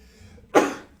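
A single sudden sneeze bursts out near the middle, close and loud, then trails off into quiet room noise during a tabletop role-playing session.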